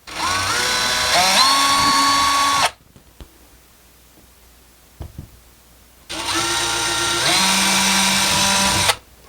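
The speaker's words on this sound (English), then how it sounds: "we're going to drill this hole out to about a 1/2 inch so that we could fit the anchor" Power drill boring an anchor hole in a wall for an over-the-range microwave install, two loud sustained whirring bursts of a few seconds each, separated by a quiet pause with faint clicks.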